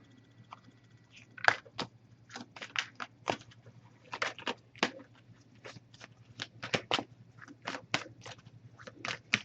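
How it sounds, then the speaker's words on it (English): A deck of oracle cards is shuffled and cut, giving a quick run of crisp riffling snaps and slaps, close and clear against quiet background, with no talking. "We'll cut the deck and pull a card."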